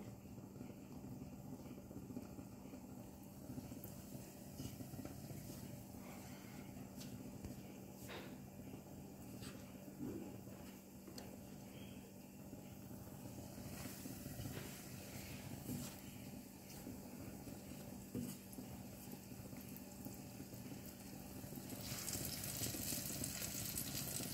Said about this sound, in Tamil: நல்லா பொரியட்டும் நல்லா கோல்டன் கலரில் வரட்டும்